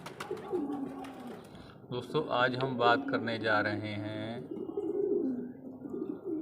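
Pigeons coo in a pigeon loft, their soft, repeated throaty calls coming from nearby under someone speaking Hindi.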